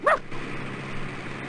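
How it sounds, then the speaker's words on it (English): Guzman, a dog in the Callahan's Crosstime Saloon video game, gives one short sharp bark at the very start, followed by a steady hissing background. "Guzman barks at you"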